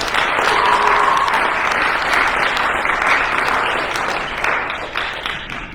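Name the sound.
applause for the team captains at a banquet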